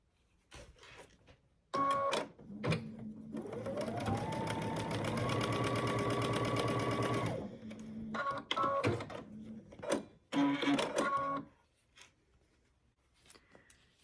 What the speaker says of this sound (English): sew these other rows together the same way, right sides together